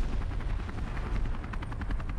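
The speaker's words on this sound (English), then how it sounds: "Oh, it's a helicopter." A military helicopter in the Call to Arms video game, during a German Army tank battle, gives a loud, steady rotor chop that stays close and continuous throughout, with no talking.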